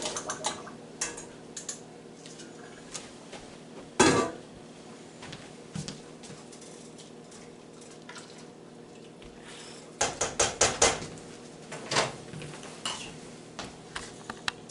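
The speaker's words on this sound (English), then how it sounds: "Go ahead and add these potatoes, let them get cooking." Potatoes for a Brunswick stew go into a pot, giving scattered clinks and knocks of pieces and utensils against metal, with a heavier clatter partway through and another cluster of sharp knocks later, no talking.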